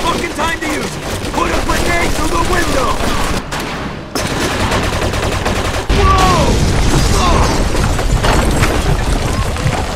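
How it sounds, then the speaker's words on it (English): Dense machine gun fire rattles nonstop in a Mafia 2 combat scene, loud and close, with sharp bursts and booms layered through the whole stretch and voices shouting beneath the shooting. "Looks like we found the machine gun."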